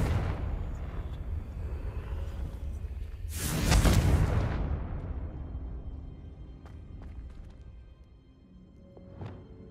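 A Confringo blasting spell in Hogwarts Legacy goes off as a loud booming explosion with a whooshing burst, followed by a rumbling decay, debris and faint game sounds.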